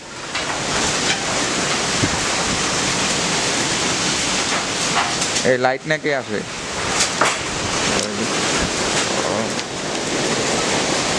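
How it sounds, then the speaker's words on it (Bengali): A fierce storm of wind and rain roars outside as a constant, loud wash of noise, with a person speaking briefly indoors partway through. "বাইরে প্রচন্ড পরিমাণ ঝড়ি বৃষ্টি হইতেছে, আর বাতাস ছাড়ছে প্রচুর পরিমাণে"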